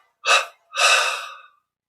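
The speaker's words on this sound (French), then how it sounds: "On expire en 3 fois et on arrête un instant de respirer." A deep meditation exhalation released in audible breathy bursts, two distinct airy puffs followed by a longer sighing out-breath, close and clear in a quiet room with no talking.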